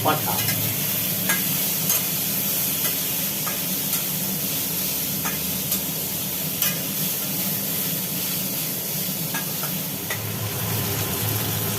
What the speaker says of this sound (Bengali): এর মধ্যে দিয়ে দিলাম টমাটো মাংস রান্না হচ্ছে